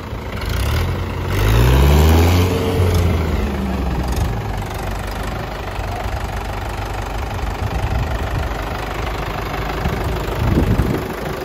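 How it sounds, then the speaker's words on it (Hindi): Three Mahindra tractors, a 575 XP and a 585 among them, idle after starting, giving a steady low diesel rumble with a louder surge early on, then an even idle throughout. "तो भाई तीन ट्रैक्टर का जोड़ देखियो लो भाई हो गए स्टार्ट ट्रैक्टर"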